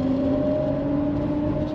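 A classic Ford Mustang converted to electric drive with a dual motor runs with a steady, loud electric whine and hum, holding an even pitch throughout, with no talk.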